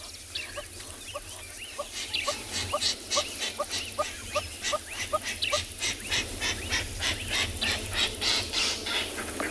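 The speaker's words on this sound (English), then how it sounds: "And that is the sound of the lilac-breasted roller." A lilac-breasted roller at sunrise on safari at Tswalu gives a steady series of harsh, rasping squawks, repeated rhythmically several times per second. The calls are moderately close and carry over a faint outdoor background.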